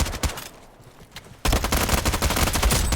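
Gunfire in the Roblox game Frontlines, with loud, close shots popping in quick succession, a short quieter gap, then a dense, sustained run of firing.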